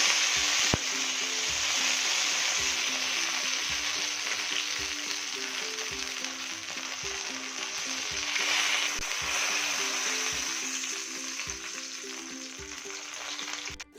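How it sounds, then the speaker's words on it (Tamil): Brinjal pieces deep-fry in hot oil with a continuous, bright sizzle that swells slightly midway, punctuated by soft, regular knocks of stirring. It is close up and alone, without speech. "நல்லா கத்திரிக்காய் வந்து நல்லா இப்படி ப்ரெஷ் பண்ணி நல்லா வறுத்து எடுத்துக்கோங்க"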